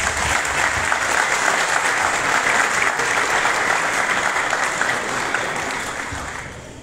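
A crowd at an outdoor intercultural health fair applauds to welcome a health official, a loud, dense, steady clapping that carries on for several seconds, then fades slightly at the end.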